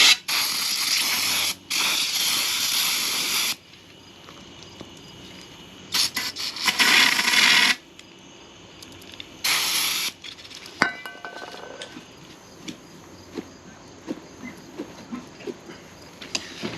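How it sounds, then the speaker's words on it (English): Brake cleaner sprayed on a power steering hose fitting: several bursts of loud hissing aerosol spray, each a second or two long, separated by quieter clinks and handling noises. "Clean with some brake clean."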